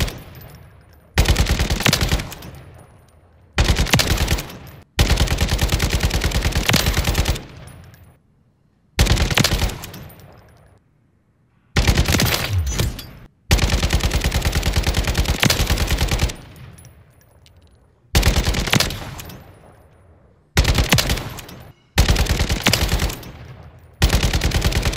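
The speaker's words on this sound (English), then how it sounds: "I just let the weapon shoot and the muzzle go wherever it wanted to go." JAK Requiem automatic weapon firing on a video game range, long loud sustained bursts separated by short pauses, each burst ending with a decaying echo.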